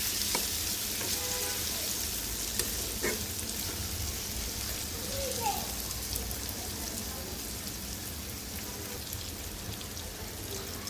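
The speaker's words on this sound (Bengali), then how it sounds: "আর একটু ভাজা ভাজা করবো" Bitter gourd slices fry uncovered in a pan over medium heat, giving a constant oil sizzle with a few light stirring scrapes and taps.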